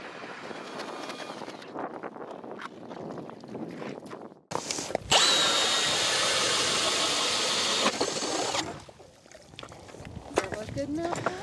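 A loud, steady grinding whir of an ice auger boring through ice runs for a few seconds, framed by wind noise and outdoor rumble before and after.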